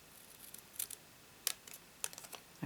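Scissors snip through cardstock for a handmade dual pop-up card. A few faint, crisp cutting snips come at irregular intervals, close and quiet, with no talking.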